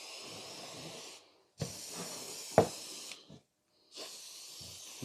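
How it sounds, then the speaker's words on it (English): Hairspray hissing from an aerosol can onto a model tree, three close bursts of spray with brief pauses and a small click between them. "So more hairspray."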